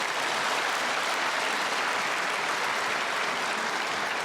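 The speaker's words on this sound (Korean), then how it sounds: "나올 때 박수로 환영하겠습니다" Steady, dense applause from a church congregation welcoming a speaker to the stage, even and unbroken from start to finish, with a faint crowd murmur beneath.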